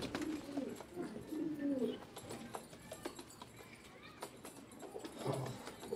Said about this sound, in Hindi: ये कबूतर स्पेशल मैंने अपने भाई के लिए लिया है